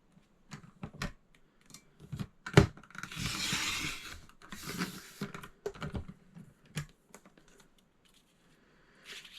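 Paper sheets are cut for a school scrapbook album, heard as close, quiet snips, clicks and rustling in irregular bursts with a longer scraping slice partway through and short gaps of near silence.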